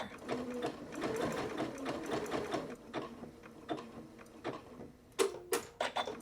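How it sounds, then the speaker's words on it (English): A home sewing machine stitches thumbhole cuffs in quick mechanical runs with short pauses between them, ending with a few sharper clicks and knocks as the work is handled. "So we just want to stitch all the way down to where we stopped stitching before"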